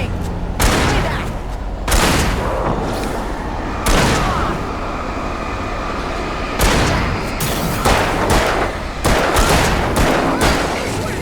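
Gunshots in the PC game Alan Wake Remastered: loud, heavy reports fired in a broken rhythm, singles and a quick cluster near the end, each ringing with a booming tail over constant background noise.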